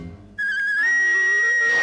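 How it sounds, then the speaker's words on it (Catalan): A small whistle blown in a Smurfs cartoon, a loud shrill sustained tone that starts abruptly after a brief quiet moment and holds steady, thick with bright overtones. "Guaita això, que potser és teu, aquest xiulet."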